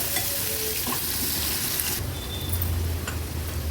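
Chopped onion cooking in oil in a pan over a low to medium flame, giving a steady close sizzle with light stirring scrapes throughout, no talking.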